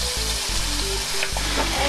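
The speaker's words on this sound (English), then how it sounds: "now we're going to add in the kimchi now that it started to sizzle" Kimchi and pork hiss loudly in a hot pan for kimchi jjigae, a close continuous sizzle with a low frying rumble and a couple of brief stirring knocks.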